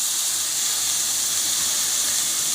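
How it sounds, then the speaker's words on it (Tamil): Curry leaves dropped into sautéed small onions in a pan for a curry leaf chutney, giving a steady, loud, close hiss of sizzling oil throughout with no voices. "இனிமேல் நம்ம கருவேப்பிலையில் போட்டுடலாம்."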